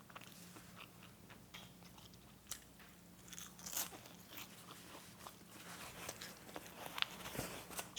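Crunchy fried dried squid being bitten and chewed up close, a steady run of crisp crunches and snaps with sharper bites toward the end, no talking.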